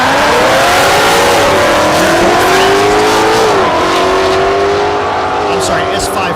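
Mustang race cars, a 2016 and a 2019 S550, running side by side in a drag race at Thunder Valley in Noble, Oklahoma, their engines climbing loudly through the gears with rising harmonic whine, while an announcer talks over them.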